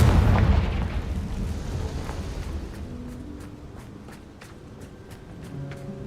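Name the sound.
Confringo fire spell explosion in a Harry Potter video game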